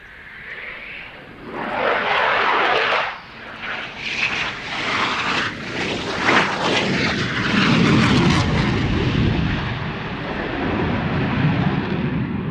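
A Eurofighter Typhoon fighter jet performing a display at an air show, its engines surging in loud roaring bursts and crackling rumbles that rise and fall as it maneuvers overhead.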